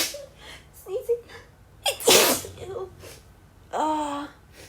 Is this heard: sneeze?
yes